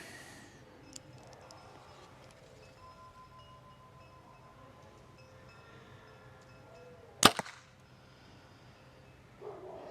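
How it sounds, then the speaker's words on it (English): An arrow from a compound bow strikes a target at 10 yards outdoors, making one sharp, loud thwack followed by a brief rattle. A fainter tap comes at the very end, over quiet wind. "first shot at 10 yards."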